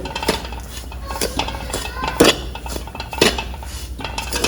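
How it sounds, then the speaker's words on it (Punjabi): Roasted fox nuts are tipped into moong dal in a pan, giving a run of metallic clinks and scrapes of a spoon against the pan, close and fairly loud, with no voices. "ਹੁਣ ਅਸੀਂ ਇਹਨੂੰ ਮੂੰਗੀ ਦੇ ਵਿੱਚ ਪਾ ਦਿੰਦੇ ਆ"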